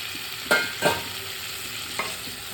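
Fried mushrooms and potatoes tipped into a pan of cooked-down tomato masala and stirred, giving a few distinct scraping and clattering strokes over a soft, steady sizzle.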